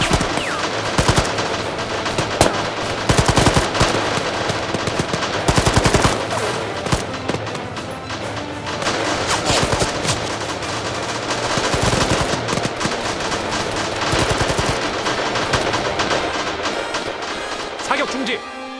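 Machine guns fire in a fierce battle to defend a small island, a loud rattle of rapid bursts that goes on and off throughout, with shouting voices mixed in.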